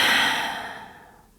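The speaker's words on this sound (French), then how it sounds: "Profonde expire." A deep exhale during a yoga breathing sequence, a soft breathy rush of air that is loudest at the start and fades steadily away over about a second.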